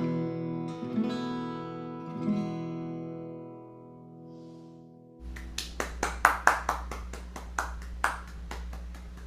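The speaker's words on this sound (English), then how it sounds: "Thank you for the applause." Applause follows a devotional song at a small concert: a sustained musical chord fades out, then a burst of rhythmic clapping starts and carries on for several seconds.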